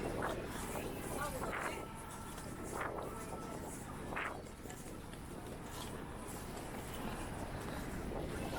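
Gusty wind blowing along a wet night street in Blackpool, a steady broad roar buffeting the microphone with a few louder surges, close and continuous.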